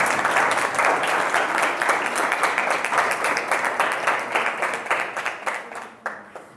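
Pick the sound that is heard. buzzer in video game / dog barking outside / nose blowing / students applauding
students applauding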